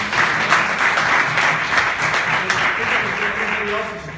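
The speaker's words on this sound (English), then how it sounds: "I'd just like to give all of you guys who pitched one more round of applause" A room of people at an investor pitch practice session claps in a dense, steady round of applause for the presenters, with cheers and voices mixed in throughout.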